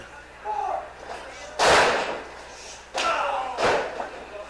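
A pro wrestler's kick lands on an opponent's back during a match, heard as loud impact slams among crowd noise. Three heavy thuds come at irregular intervals, close and prominent.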